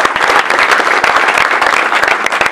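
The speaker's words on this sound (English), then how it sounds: "Clap for that." Audience applause at a school classroom opening ceremony in Kitale, a dense burst of many hands clapping close by, steady and loud throughout.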